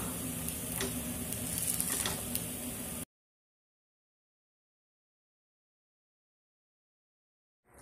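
Red jowar paniyaram sizzling in a paniyaram pan as the pieces are turned over, a steady close frying hiss with light stirring clicks for about three seconds before cutting to silence.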